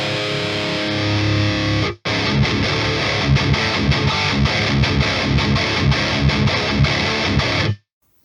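A heavily distorted electric guitar through a V30 speaker cabinet impulse response chugs out rhythmic 80s-90s metal riffs, loud and dense, with a short break near the start before it cuts off abruptly.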